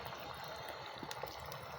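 Egg dropped into hot ghee and soybean oil in a frying pan, a soft steady sizzle and crackle of frying with faint pops, close and fairly quiet throughout.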